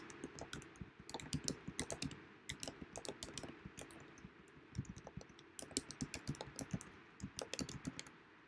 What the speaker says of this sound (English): So let me see if I can type tonight.